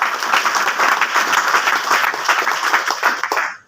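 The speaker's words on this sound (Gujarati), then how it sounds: "જબરદસ્ત તાળી છે" An audience at a business leadership speech breaks into loud, sustained applause, many hands clapping together in a dense, continuous wash that fades out at the very end.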